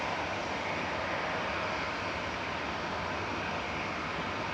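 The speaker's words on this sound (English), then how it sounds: "We've got Shuttle 3 November taxiing out, waiting in front of us." An airliner taxiing at Manchester Airport makes a constant, low, distant jet rumble and hiss, unchanging throughout, with no voices heard.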